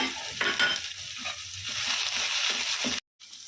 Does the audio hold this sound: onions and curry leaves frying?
yes